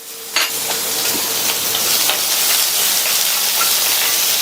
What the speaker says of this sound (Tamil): இந்த வெங்காயம் பச்சை மிளகாய் ரெண்டும் கொஞ்சம் வதங்கட்டும்.